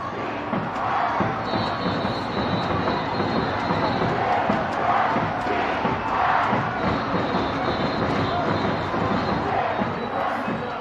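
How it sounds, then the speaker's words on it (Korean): Crowd cheering in a baseball stadium, a dense, sustained roar of many voices with rising swells of shouting and chanting, steady and loud throughout. "야구장인가요? 이 소리를 들으면 왠지 뭔가 자리에서 일어나야 될 것 같은데"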